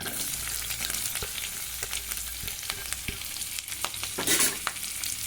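Onions and a bay leaf fry in a pan for a tomato soup, giving a steady close sizzle with occasional stirring clicks and scrapes, no voices.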